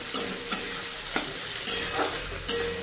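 Potato curry sautéing in a pan, with a soft sizzle and a spatula scraping and clanking against the pan in regular stirs, about five strokes spaced roughly half a second apart.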